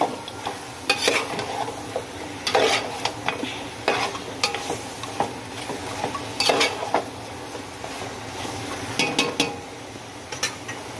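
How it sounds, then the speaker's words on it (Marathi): Precooked mutton fries in masala in a pan, steady sizzling under frequent metal spoon scrapes and clinks against the pan, close and moderately loud, with no talking. "मटण आपण त्या मसाल्यामध्ये व्यवस्थित फ्राय करून घेऊया।"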